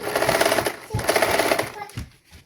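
A sewing machine stitches a frock, giving a fast, close mechanical whirring run of needle strokes that pauses briefly and then resumes before stopping.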